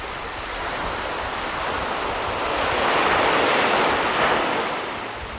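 Steady surf and sea wind wash along the Pohang coast on the East Sea coastal green trail, a broad continuous roar of breaking waves that swells gently and fades, with no voices.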